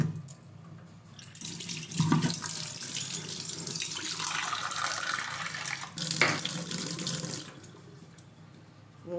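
Water streams steadily from a tap into a pot or vessel in a home kitchen while cooking, a loud continuous rush with brief breaks, no talking.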